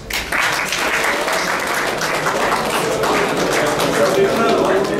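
Steady audience applause filling a lecture hall at a talk on pyramid science in Bangalore, dense even clapping that rises quickly and holds at full loudness throughout.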